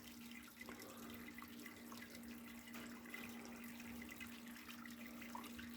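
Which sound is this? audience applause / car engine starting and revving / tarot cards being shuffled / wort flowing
wort flowing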